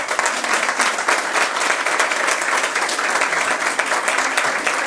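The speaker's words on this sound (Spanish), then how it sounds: "Pido un aplauso." An audience applauding at a talk on family flavors, cooking and integration in Madrid, loud, sustained clapping throughout with no break.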